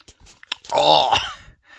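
Spicy Doritos Flamas chips crunched in the mouth up close, with a brief burst of loud crisp chewing framed by small mouth clicks and breaths.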